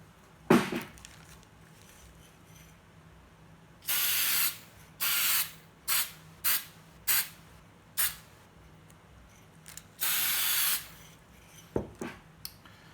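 Short hissing bursts of an aerosol spray can coating a toy blaster, about eight separate sprays of varying length, close and fairly quiet, with a couple of clicks and knocks in between.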